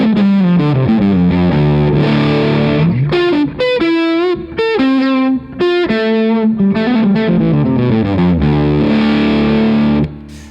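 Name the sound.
electric guitar through Wolf Devices fuzz pedal, low fuzz setting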